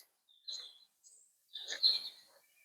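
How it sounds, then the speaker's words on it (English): Spring birds chirp faintly outdoors in the background, with a few short, high calls in two small clusters and no voices over them. "You can hear the birds in the background."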